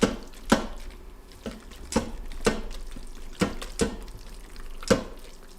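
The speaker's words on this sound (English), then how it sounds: "So we're gonna stir that in." Wet, sticky stirring of shredded rotisserie chicken into creamy pasta in an Instant Pot, with scattered clacks of a utensil against the pot at an irregular pace, close by and fairly quiet.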